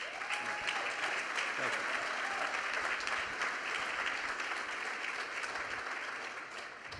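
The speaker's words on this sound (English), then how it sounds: "I think you deserve a round of applause from everybody here" Audience at a New York real estate forum gives a sustained round of applause, a steady, even roar of clapping from a large room that holds for about seven seconds before tapering slightly.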